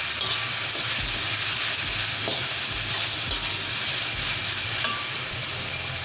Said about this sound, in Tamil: இந்த நேரத்தில் புதினா, கொத்தமல்லி இலைகளை போடுங்க. போட்டு லேசாக கிளறி விட்டு